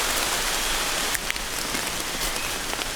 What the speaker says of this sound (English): rain is picking up